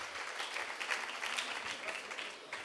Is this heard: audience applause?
yes